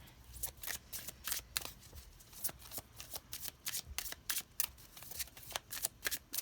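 Tarot cards being shuffled and drawn, a quick run of close, crisp riffles and card snaps repeating steadily with no voices.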